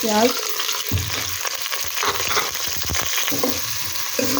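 Onions sizzling in hot ghee while being stirred for a ridge gourd curry, a continuous crackling fry close by with scraping stir strokes, no talk.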